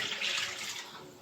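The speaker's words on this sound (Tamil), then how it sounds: "2 கப்பு தண்ணி ஊற்றணும்." Water poured from a cup into a pot of mutton biryani, a steady close splashing trickle running without a break.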